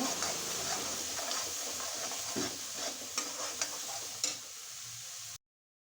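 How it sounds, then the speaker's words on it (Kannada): Masala frying over low heat in a pan gives a soft steady sizzle with light ticking and scraping stir sounds, fairly quiet, ending abruptly. "ಸಿಮ್ಮಲ್ಲಿ ಇಟ್ಕೊಂಡು ಚೆನ್ನಾಗಿ ಫ್ರೈ ಮಾಡ್ಕೊಳ್ಳಿ"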